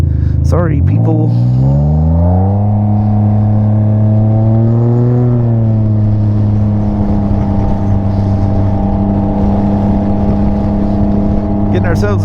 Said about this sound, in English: Beautiful day, beautiful Ryker, just literally an unusable exhaust system on